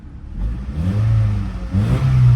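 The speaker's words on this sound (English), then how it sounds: "Give it a little rev." A square-body Chevy truck's engine revs up from idle, the pitch climbing and falling twice in quick succession, loud and close with no talking.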